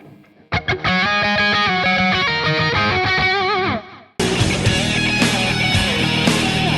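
A distorted electric guitar punches out a choppy, percussive phrase of muted, staccato picked notes climbing and bending, then breaks into a dense, full-band rock section, loud throughout.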